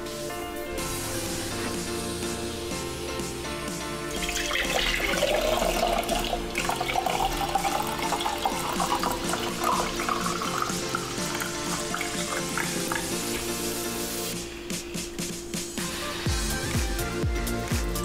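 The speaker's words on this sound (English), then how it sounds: "our salt water has cooled and we're ready to pour it" Cooled salt water is poured into glass jars, giving a steady splashing, trickling stream that rises in pitch as the jars fill, then stops near the end.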